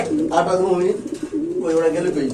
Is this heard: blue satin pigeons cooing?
yes